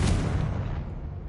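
Spell explosion in the video game Hogwarts Legacy, a single deep booming blast that starts at once and fades out over about a second, with no voices over it.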